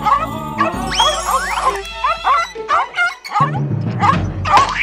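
Guard dogs in a Christmas movie bark, yip and whimper in quick, loud bursts close by, mixed with excited voices.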